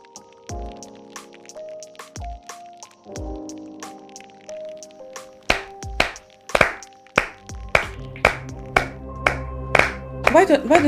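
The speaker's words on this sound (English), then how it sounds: "That's because there are two people clapping" Hands clapping in an irregular, sharp series at close range. Several sets of claps seem to overlap, with a soft music melody playing underneath at first and a lower hum near the end.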